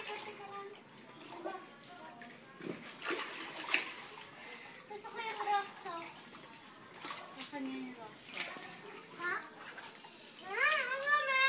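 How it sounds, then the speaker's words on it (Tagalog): Water pours and splashes into a small inflatable pool at home, a soft steady gush heard under frequent chatter and playful voices of children and an adult. "Lalabas ng tubig."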